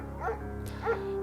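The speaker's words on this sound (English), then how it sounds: "Mayhem's an excellent dog." A German shepherd in Firewatch gives two short whimpering yelps about half a second apart, each rising and falling in pitch, with a faint whine trailing after the second.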